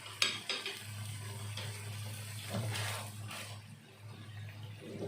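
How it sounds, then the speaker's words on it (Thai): Shrimp stir-fried in a pan with green curry paste and coconut milk for a dry green curry spaghetti: a utensil clinks against the pan, then steady soft sizzling and stirring scrapes, close and with no talk. "จากนั้นเราใส่กุ้ง ลงไปนะครับ"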